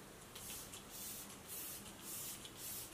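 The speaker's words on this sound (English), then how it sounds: "Let me spray a little on my face now." A facial mist spray bottle sprays a fine mist onto a face, giving several short, soft hissing bursts close by in a quiet room, with no voices.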